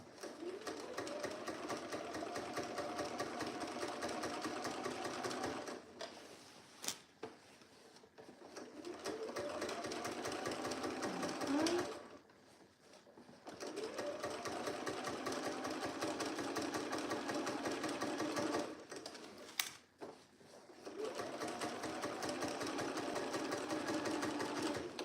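Sewing machine running in long steady bursts while understitching the facing seam of a pair of trousers, its close whirring motor stopping briefly between passes with no talk.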